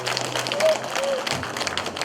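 Audience applause at a lecture and performance event, a dense patter of clapping from a crowd under a speaking voice, sustained for about two seconds.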